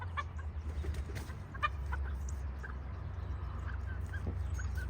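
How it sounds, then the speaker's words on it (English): A chicken clucks softly now and then over a low steady hum, fairly quiet and close. "It's one of my original chickens"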